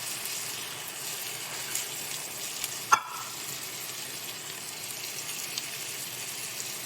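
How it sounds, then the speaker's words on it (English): Diced tomatoes and tomato sauce for low-sodium skillet ziti hit a hot skillet, giving a steady, even sizzle with one sharp clink partway through. "we're going to add in 16-ounce can of diced tomatoes and 3 8-ounce cans of tomato sauce"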